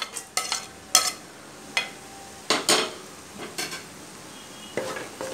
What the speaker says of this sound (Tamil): இப்போ நம்ம இதெல்லாம் நல்லா வதக்கலாம்.